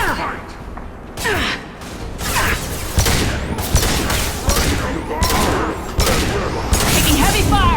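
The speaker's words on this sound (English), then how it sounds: "Taking heavy fire!" Heavy gunfire in a Mass Effect 2 firefight, loud bursts of shots and impacts arriving in repeated volleys with brief gaps, with shouting voices heard amid the combat.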